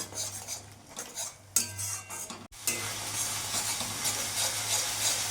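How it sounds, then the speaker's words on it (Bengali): Spice paste made with green chili being stir-fried in oil in a pan for a katla fish and cauliflower curry, with steady close sizzling, repeated spoon scrapes and clinks against the pan, and one brief break midway. "এবার মশলাটা কিছুক্ষণ কষিয়ে নেব"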